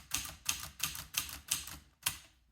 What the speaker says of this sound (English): The keys are typing well